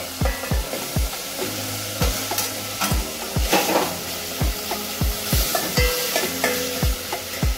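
Okra is tossed into a pan of fried prawns for a Goan prawn okra curry, giving steady sizzling with a repeated rhythmic scraping of a spoon against the pan, close and clear, with no talking.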